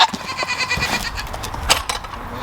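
Collared farm goats bleat loudly and close by, with several overlapping calls in quick succession over rustling and outdoor noise.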